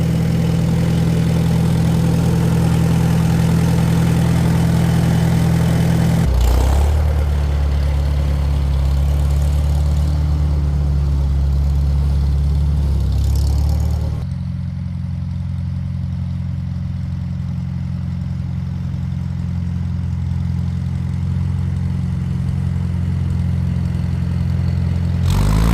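A Farmall Super M-TA tractor engine idles close by for nearly half a minute, a steady, deep, throbbing rumble with an even beat. It shifts slightly in pitch and loudness around six and fourteen seconds but otherwise runs on alone.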